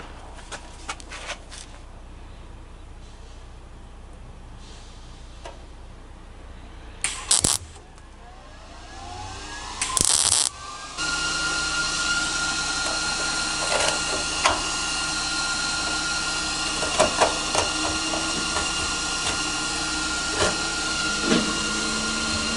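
Short bursts of MIG welding lay small beads to patch a hole in a car body, then a louder, steady sputtering hiss of continuous welding crackle runs to the end, with no talking.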